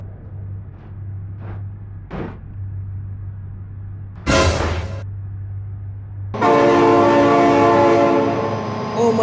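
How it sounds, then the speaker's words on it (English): Train in the BeamNG.drive video game sounding its horn as it passes: a few faint blips, a loud burst, then a sustained loud horn over rolling rail noise, with a voice exclaiming. "Oh my God, train!"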